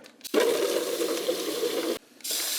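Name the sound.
pouring kelp and fish fertilizer into an old milk jug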